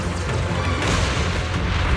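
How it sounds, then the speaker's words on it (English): Explosions from cocoon blasts in the video game Zenless Zone Zero, a dense, loud rumbling boom filling the whole moment with no talk. "Explosions are becoming more frequent."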